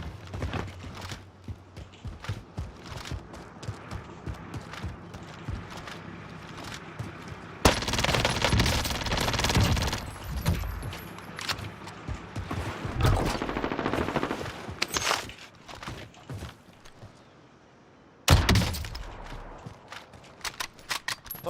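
Rapid automatic gunfire from Call of Duty: Warzone rattles in sustained loud bursts, with sharper single shots and quieter gaps in between.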